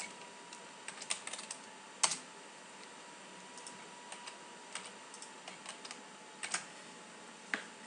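Sparse computer keyboard typing, a few isolated clicks and short bursts of keystrokes spread over several seconds, close and fairly quiet with steady background hiss and a faint tone.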